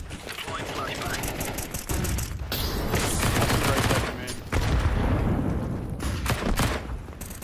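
Dense gunfire from a Counter-Strike 2 match fills a major tournament watch party, with rapid shots and bursts layered over crowd noise and talk.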